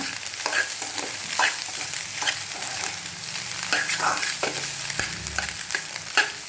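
Egg masala podimas, half-cooked and raw egg mixed with spices, sizzles steadily in a hot pan while a spatula scrapes and stirs it in repeated strokes, close and continuous with no talking.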